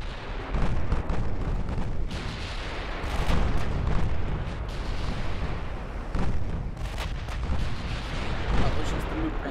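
Naval guns in the battleship strategy game Ultimate Admiral Dreadnoughts fire repeatedly, with heavy booms every couple of seconds over a continuous rumbling battle din.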